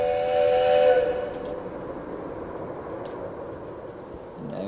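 A toy wooden railway ghost train whistle shrieks loudly for about a second, then cuts off, leaving a steady low rumble and hiss.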